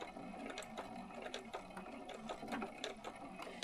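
A sewing machine stitches slowly through several layers of a quilted jacket sleeve cuff, making a steady, close mechanical chatter of rhythmic needle strokes throughout, with no speech.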